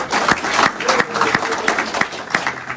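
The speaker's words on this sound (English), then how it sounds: "Give him a round of applause." A town hall audience applauds a speaker at a legislative meeting, steady dense clapping that fills the room from start to finish, with no voices rising above it.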